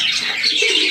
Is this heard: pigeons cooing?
yes